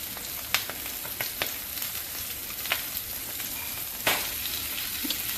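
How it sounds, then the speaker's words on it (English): Steady, dense sizzling of meat frying in a hot pan, with occasional pops and crackles standing out from the continuous hiss. "it's starting to sizzle a little bit more"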